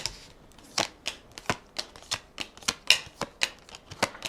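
Tarot cards are shuffled and snapped down in a quick series of sharp, crisp flicks, close by, with no talking.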